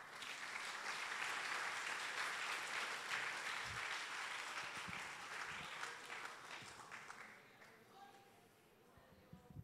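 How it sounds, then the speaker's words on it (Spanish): A church congregation applauds a preacher during an evangelistic service, sustained crowd clapping that holds steady before gradually thinning out, with voices murmuring beneath it. "¿Cuánto dan un aplauso al Padre?"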